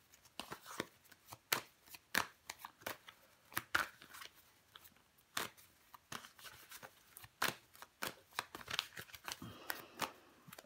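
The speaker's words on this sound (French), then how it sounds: "On va recouvrir les cartes." Tarot cards are handled, shuffled and laid over one another in a series of quiet, close, crisp slaps and soft sliding rustles, irregular and continuous, with no talk.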